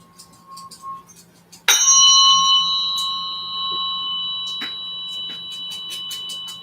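Tuning fork struck during a biofield tuning session, a sudden bright ring that sustains with steady pure tones, followed by a couple of fainter ringing strikes.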